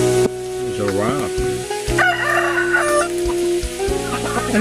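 A rooster crows nearby, its drawn-out call rising clearly over a busy background with a steady tonal hum and a few clucks.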